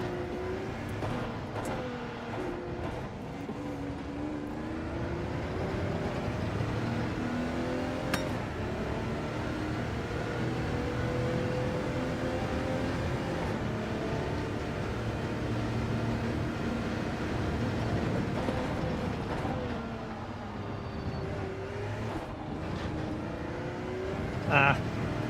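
A race car laps a circuit in the video game Gran Turismo 7 in rainy conditions, its engine droning and rising through gear changes at steady volume, with a person talking over it at times.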